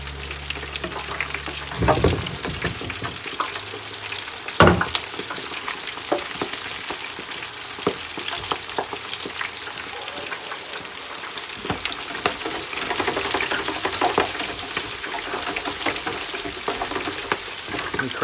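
Cold food deep frying in hot oil in a countertop fryer, a dense continuous sizzle and crackle close by, with a few knocks and a brief rise in bubbling intensity.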